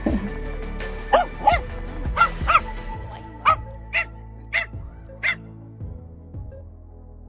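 Several dogs barking outdoors in Finland, a run of sharp, evenly spaced barks and yips with a few whimpers, fairly close and loud, easing off toward the end.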